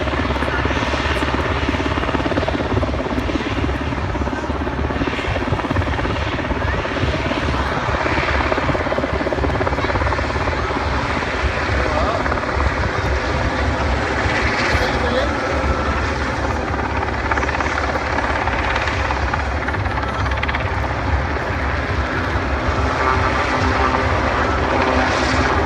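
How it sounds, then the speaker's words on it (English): Loud, close, continuous drone of a Sea King Mark 5 utility search and rescue helicopter, with steady rotor chop and engine whine throughout, a voice talking under the noise. "helicopter utility, specifically designed in this case for the search and rescue style operations"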